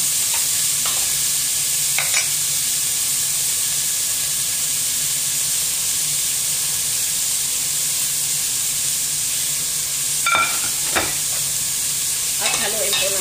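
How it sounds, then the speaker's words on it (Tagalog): Shrimp sautéing in a pan with black pepper and salt, a steady close sizzle throughout with occasional scrapes and clinks of a spoon stirring, no talking. "At haluin po natin."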